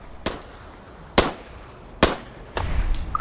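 Pistol shots from an HK USP in modded Fallout 4, three loud, sharp cracks spaced roughly a second apart, each with a brief decaying tail, followed by a rumbling burst of impact or explosion noise.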